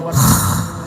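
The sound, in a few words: imitated exhaling breath of a dying person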